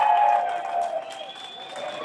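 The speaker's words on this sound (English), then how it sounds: "Let's give Andy a huge round of applause" Outdoor crowd at a skate park ribbon-cutting opening cheering and clapping, with whistles ringing out over scattered applause that eases slightly partway through.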